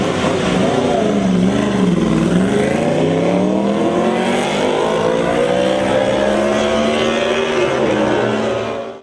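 MotoGP racing motorcycles with 800 cc engines revving: loud, high-pitched engine notes rise and fall in long sweeping waves, close by and continuous for several seconds, then cut off sharply at the end.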